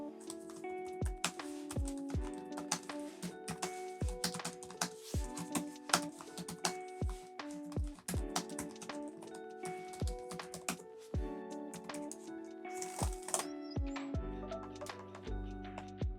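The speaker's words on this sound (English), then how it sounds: "let's have a listen to what the keyboard sounds like" Keys clack on the keyboard of a 2022 Lenovo ThinkPad T16 laptop, a run of quick, irregular close-up taps over quiet background music.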